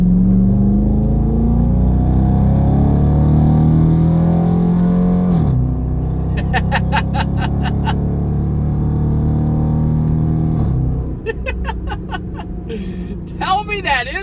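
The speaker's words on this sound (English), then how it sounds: "let's take this one more time and accelerate from about 20 miles an hour" Dodge Durango R/T towing a trailer accelerates from about 20 mph, its engine note rising in pitch through a long pull, then dropping at a gear change before building again, loud and close, with a voice talking over it.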